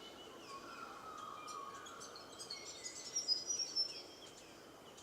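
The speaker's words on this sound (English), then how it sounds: "There's a grey fantail flying up here somewhere. I can hear it" High, thin calls of a grey fantail chirp faintly over a steady outdoor hiss, growing a little busier and louder toward the end.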